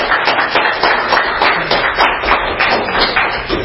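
Audience applause at a regular county commission meeting: a steady, dense patter of many hands clapping in a hall, sustained evenly throughout with no talk over it.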